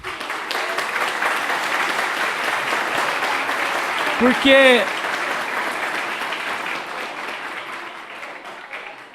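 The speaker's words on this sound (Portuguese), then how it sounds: "eu queria que vocês dessem uma salva de palmas para esses estudantes" An audience claps for students at a talk on drug-use prevention. The applause is steady and sustained throughout, with a brief voice speaking partway through.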